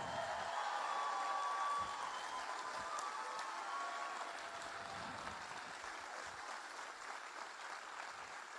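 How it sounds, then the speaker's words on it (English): A crowd at a political campaign event in De Pere, Wisconsin claps in sustained, dense applause, heard at a distance, starting louder and settling into a steady patter. "Let's give them a big round of applause."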